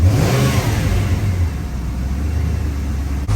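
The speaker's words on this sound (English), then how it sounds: "You see the rev is going down immediately." The 5.0 V8 of a 1994 Mustang GT revs up loudly, then the engine note drops quickly and settles toward a steady, low rumbling idle, close and prominent.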